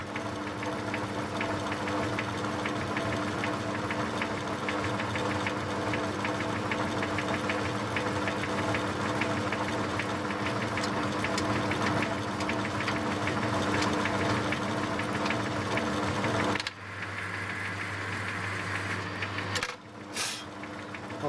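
Miniature watchmaker's lathe built from old castings running under power while cutting a leadscrew: a steady close mechanical whir and rhythmic knocking hum from the motor and gearing, continuous for most of the stretch before it shifts and cuts off.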